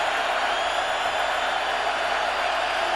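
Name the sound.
football stadium crowd making noise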